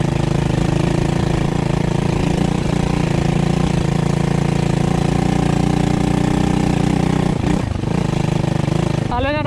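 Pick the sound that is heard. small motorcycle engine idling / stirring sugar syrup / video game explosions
small motorcycle engine idling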